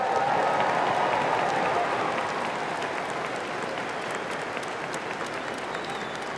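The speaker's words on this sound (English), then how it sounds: "Let's give them another round of applause" Large audience applauding steadily at a university spring commencement ceremony in Hawaii, a broad, even wash of clapping that stays loud and gradually settles slightly lower throughout.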